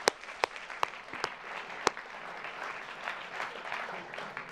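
Audience applause for both debate teams at a debate event: a few sharp, separate claps at first, then a steadier crowd of clapping at moderate distance, with faint voices underneath.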